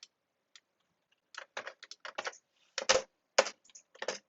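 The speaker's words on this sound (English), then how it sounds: "we can type" Typing on a computer keyboard, close and crisp, a few isolated taps followed by irregular bursts of quick keystrokes with short pauses between them, no voices.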